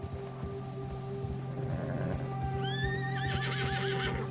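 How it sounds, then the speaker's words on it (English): In Red Dead Redemption 2, a horse spooked by a nearby bear shifts and stamps, then lets out a loud, shrill, wavering neigh over steady ambient noise. "Horse is freaking out."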